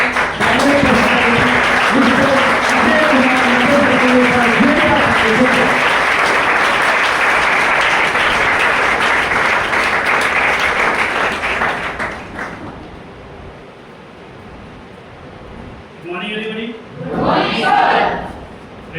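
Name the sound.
audience applause welcoming speaker on stage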